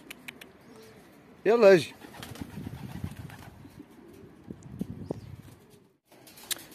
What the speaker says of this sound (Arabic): هل رأيت حمام يفهم الكلام؟